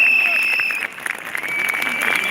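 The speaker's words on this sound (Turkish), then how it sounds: "Onlara da yürekten bir alkış yapalım." Large outdoor crowd at a retired military personnel pay rally in Tandoğan square applauding, a dense continuous clatter of clapping with crowd noise and a steady tone running through it.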